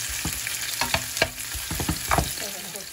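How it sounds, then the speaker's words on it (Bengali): Chopped onion dropped into hot oil for fish masala sizzles and crackles steadily, with bursts of stirring and spattering close by. "in a hot oil I put the onion"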